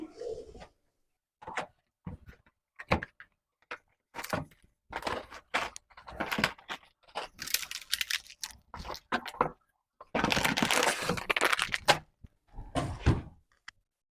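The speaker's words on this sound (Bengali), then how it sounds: "এটা সেকেন্ড বক্স আমি খুলছি।" A cardboard box of delivered groceries is opened by hand: irregular bursts of tearing, rustling and thumping packaging, some short and some longer, close and fairly loud, with no talking.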